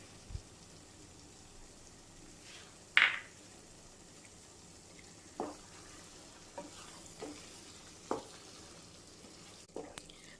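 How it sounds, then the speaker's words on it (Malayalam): Ground cashew paste poured into a pan of mushroom masala, then stirred, giving a soft steady sizzle with several scraping spoon strokes spaced a few seconds apart, fairly quiet and with no talking. "കാഷ്യൂ നട്ട് നമ്മൾ അരച്ചു വെച്ചിരുന്നല്ലോ, അത് ഇതിലേക്ക് ഒഴിച്ചു കൊടുക്കുന്നുണ്ട്"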